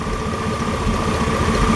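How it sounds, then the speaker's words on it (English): A car engine idles steadily after its EGR valve has been cleaned, giving a continuous low hum with a faint tonal whine. The sound is close, even and unbroken, and no voice is heard. "the engine is running fine"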